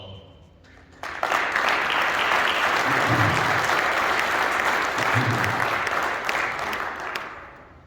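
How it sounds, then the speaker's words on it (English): An audience at a Shriners kickoff party in Pittsburgh breaks into applause, a dense, sustained wash of many hands that starts abruptly after a quiet moment, holds steady and loud, then fades out near the end. "You need an applause."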